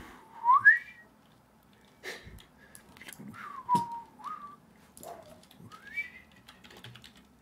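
Short whistled phrases with sliding pitches come in bursts, separated by pauses, with keyboard clicks tapping in between.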